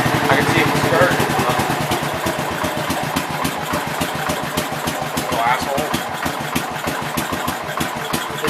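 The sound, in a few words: 1967 424 engine running and revving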